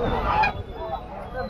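A black duck at a busy poultry market gives a brief honking call among the crowd, near and fairly loud, with market chatter and voices around it.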